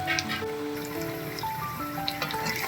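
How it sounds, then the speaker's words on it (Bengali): Boiled potatoes shallow-frying in oil a few at a time for an egg and potato curry, giving a steady fine crackle like light rain under soft background tones. "আর আমি নুন অ্যাড করিনি, এইভাবেই ভেজে নিচ্ছি"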